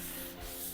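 Wet sanding of freshly resprayed car paint with sandpaper dipped in water: a short, steady rasping rub heard close up, with no talking.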